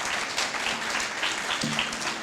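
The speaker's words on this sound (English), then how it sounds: "Can we give them another round of applause?" Round of applause from the audience at a 2019 Black Heritage Month program, a steady, dense wash of many hands clapping close up, filling the whole clip with a faint voice or tone near the end.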